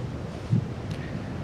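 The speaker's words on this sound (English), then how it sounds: "Very cold, very windy this morning." Strong, cold morning wind blows steadily at a backcountry campsite in rugged Ontario wilderness, a continuous low rushing roar with a brief gust swelling near the middle, and no voices.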